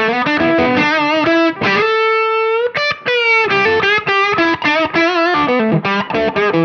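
An electric guitar played through a boost pedal into distortion rings out loud and saturated, a run of sustained chords and single notes with thick harmonic buzz, alone without talk.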